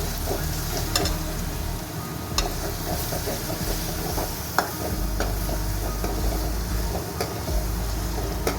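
Garlic and ginger paste sizzles in a hot pan as a fish curry is cooked, a steady crackling hiss broken by the scrape and clink of a spoon stirring now and then, close and fairly loud.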